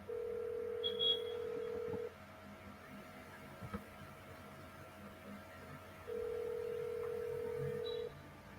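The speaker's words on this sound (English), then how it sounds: "Is it okay if I call her?" A telephone call being placed: a steady ringback tone buzzes for about two seconds, falls silent, then sounds again for another two seconds, with faint electronic chirps and low room noise and no talking.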